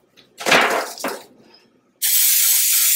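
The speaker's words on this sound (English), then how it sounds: "I'm gonna use this baking spray that already has flour in it and butter flavor" Butter-flavored baking spray with flour hisses onto a cake pan in two short bursts, then one longer steady spray, close and fairly loud in a quiet kitchen.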